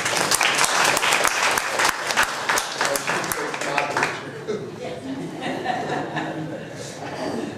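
Audience applause at a library reading room dedication, loud rapid clapping for the first four seconds that thins and fades out, with some chuckles and murmuring voices underneath.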